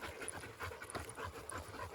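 Three dogs at heel training pant steadily at close range, a quick rhythmic huffing with no one speaking.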